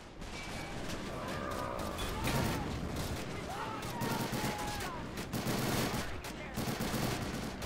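In the video game Men of War: Assault Squad 2, bursts of rapid gunfire crackle continuously over a noisy snowy battlefield, with whizzing bullets streaking past.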